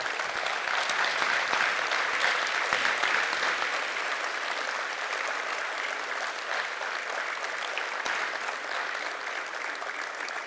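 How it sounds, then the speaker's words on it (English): A conference audience rises for a sustained standing ovation at a management conclave, steady dense clapping filling the whole stretch at an even, loud level without a break. "let us all stand up in his honor and let us all clap for this great man"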